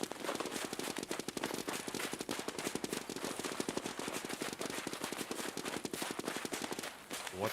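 An emplacement turret in the Escape from Tarkov video game fires a long continuous burst of rapid automatic gunfire. The dense, evenly spaced cracks run for several seconds at a moderate distance and are heard alone.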